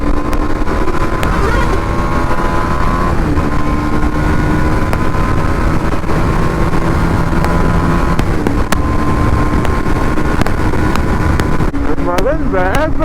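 A motorbike being ridden on a road in the morning, its engine droning loudly and steadily throughout, with heavy wind rushing over the microphone and a brief voice near the end.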